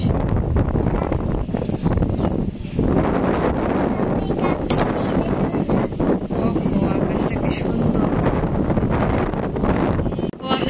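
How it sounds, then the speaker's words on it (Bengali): Strong wind just before rain buffets the microphone in a steady, loud roar that rushes on without pause, with faint voices half buried beneath it. "বাতাসে তো কথা বলাই যেতেছে না"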